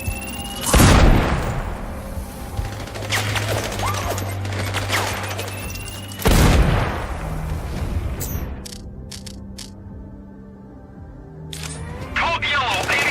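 Gunfire and explosions in the stealth shooter Sniper Ghost Warrior Contracts 2: two heavy booming blasts about five seconds apart, with crackling shots and radio-style voices beneath, then a quieter stretch before new clatter.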